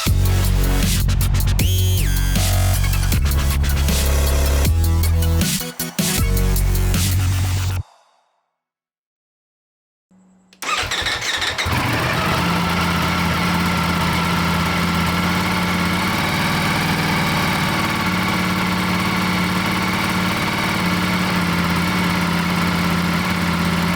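Ducati Panigale V4S motorcycle with stock exhaust cold-started after a brief silence, settling into a loud, steady, rumbling idle that holds unbroken with no talk.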